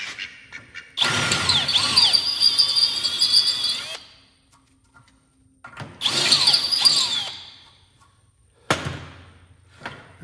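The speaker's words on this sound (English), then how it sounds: "what I got here is a cool little chamfering tool for doing ends of bolts" A chamfering tool in a power drill cleans up the threaded ends of bolts during a coil-over install on a 1969 Pontiac Firebird, giving three close, loud bursts of whining, grinding cutting separated by quiet pauses.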